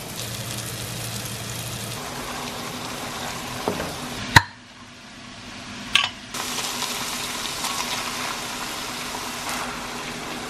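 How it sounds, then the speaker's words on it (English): Ground bison cooking with onions and mushrooms in raw butter, a steady soft pan sizzle with stirring and a couple of sharp utensil knocks, then a brief quieter gap before the frying resumes. "I have my ground bison here cooking with some onions, pasta water, and some mushrooms that I'm cooking in some raw butter"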